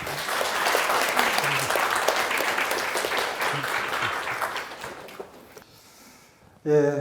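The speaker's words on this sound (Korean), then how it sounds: "큰 박수로 환영해 주시기 바랍니다." A lecture audience at a Korea University political science special lecture claps loudly and steadily for several seconds to welcome a former Seoul mayor, fading out before a voice begins speaking.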